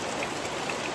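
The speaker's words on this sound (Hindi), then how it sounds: "तो देखो बारिश रुकने का नाम नहीं ले रहा है" Heavy rain falling in a steady, dense hiss of patter, close and even, with no voices.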